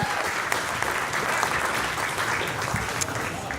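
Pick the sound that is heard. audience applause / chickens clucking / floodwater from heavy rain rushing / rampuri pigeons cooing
audience applause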